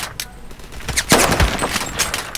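Gunfire in the Roblox game Phantom Forces: a run of sharp shots at a steady pace, loud and close, with no voices over them.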